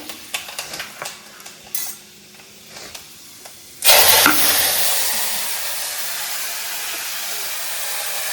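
Fenugreek seeds crackle with scattered pops in a hot pan for fish curry, then a sudden loud, sustained sizzle bursts up and keeps hissing close by.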